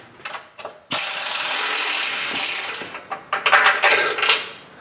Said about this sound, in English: 18 millimeter bolt or nut on the top that the bolt goes into, so I gotta get a wrench on that